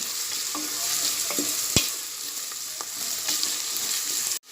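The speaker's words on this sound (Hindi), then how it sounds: "अब ये प्याज गोल्डन होने तक हम इसे फ्राई करेंगे।" Onions frying until golden in a pan for a Konkani meat curry, a steady close sizzle with a few spoon scrapes and stirring knocks, with no talking.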